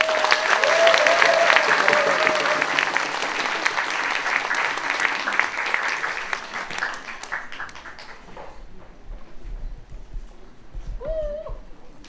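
A crowd at an indoor peace-movement gathering applauds in dense, sustained clapping that gradually thins and tapers off over about eight seconds, leaving a quieter room with faint stray sounds.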